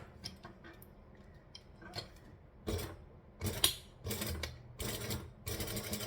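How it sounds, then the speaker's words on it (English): A sewing machine runs in short, separate bursts as it stitches along the edge of a Sallie Tomato Lucky Penny wallet. The bursts get louder and more sustained in the second half, with light mechanical ticking between the runs. "I am just going to stitch"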